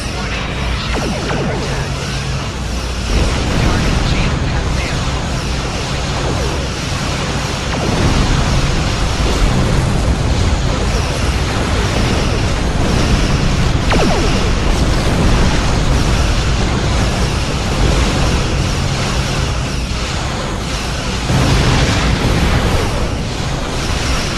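Weapon fire and explosions from Star Trek Online space combat against the Borg, a loud, dense and continuous roar of blasts and rumbling impacts throughout, with no talking.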